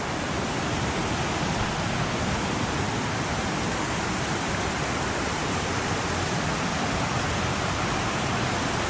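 Steady, full rush of flowing water from Pearly Creek in Olympic National Forest, Washington, running over rocks, continuous and close with no voices.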